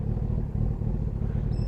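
A Kawasaki ZX6 motorbike engine idling at a McDonald's drive-thru, a steady close rumbling burble with no voices over it.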